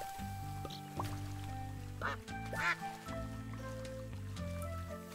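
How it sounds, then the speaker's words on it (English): Ducks quacking in the video game Capybara Spa, a few short nasal quacks over gentle looping game music and watery ambience, with a voice talking over it. "Got a lot of capybaras and a lot of ducks."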